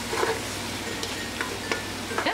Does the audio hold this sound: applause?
no